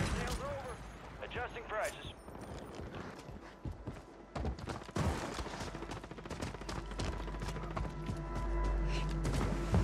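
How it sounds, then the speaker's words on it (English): A KV Broadside fully automatic shotgun fires in Warzone 3 as rapid bursts of heavy blasts, some tightly spaced, mixed with other gunfire and footsteps while a voice talks over them. "My shotgun is fully automatic like an assault rifle."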